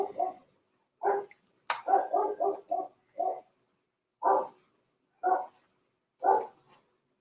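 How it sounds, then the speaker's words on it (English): Dogs bark in a steady series of short, single and double woofs spaced about a second apart, fairly close and distinct against silence, with no talking. "Boy, my dogs are barking."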